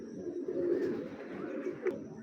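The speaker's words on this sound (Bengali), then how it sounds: "অরিজিনাল সবুজ গলা কবুতর" Green-necked pigeons coo in a low, soft, continuous murmur, moderately close, with a brief sharper call near the end and no talking over them.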